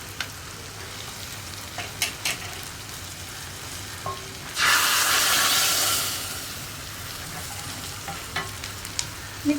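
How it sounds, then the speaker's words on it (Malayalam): Hot tempering (varavu) of spices in oil is tipped into a pot of curry, bursting into a loud, bright sizzle that lasts a couple of seconds and fades, with light clinks and stirring taps before and after. "ഞാനിപ്പോൾ നമ്മുടെ വറവ് കറിയിലേക്ക് ചേർക്കുകയാണ്"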